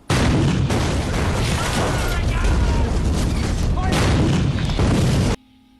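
Dense, loud gunfire and explosions from a World War II drama battle scene, a continuous barrage of booms and bursts that fills the whole stretch before cutting off abruptly.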